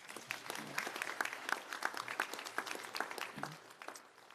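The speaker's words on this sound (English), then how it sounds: "Another round of applause for Dean Alguero" Audience applause for Dean Alguero breaks out at a Loyola law graduates' bar swearing-in, a continuous patter of many hands clapping at moderate volume with slight dips and swells.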